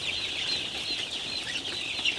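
A flock of Sonali hybrid chicks, about twelve days old, clucking continuously, a dense steady chatter of many birds close by with no talking.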